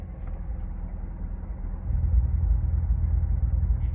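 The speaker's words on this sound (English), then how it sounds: "it closes the valves in the exhaust to make it sound quieter or louder" A Chevrolet Corvette Z06 idling with a deep, low rumble that swells noticeably louder partway through as the exhaust valves open, then holds steady.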